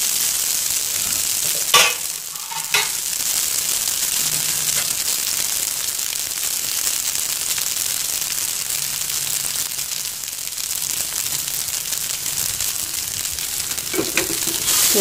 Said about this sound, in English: So just stir it.